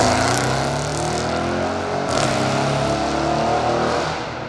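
A loud Audi S6 with a stage 2 remap roars on a racetrack, its engine note holding strong and steady with slight rises in pitch as it drives close by.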